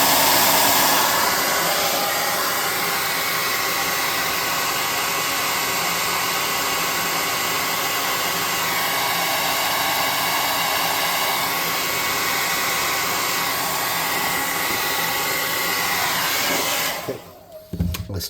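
A hair dryer blows steadily and loudly on paint on a model airship, a constant whooshing roar that cuts off abruptly near the end.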